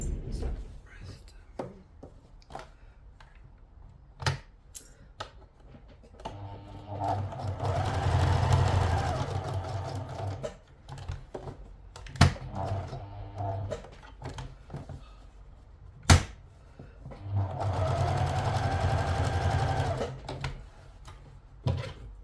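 A sewing machine top-stitches a pressed-open seam on a cloche hat in two sustained runs, each several seconds long, with quiet handling clicks between and after them.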